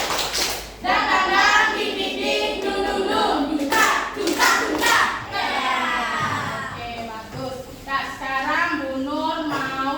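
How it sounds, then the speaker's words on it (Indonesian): Students in a classroom do a rhythmic group cheer clap, bursts of patterned hand claps mixed with children's voices chanting and shouting over steady room chatter. "kita tepuk semangat dulu. Tepuk semangat."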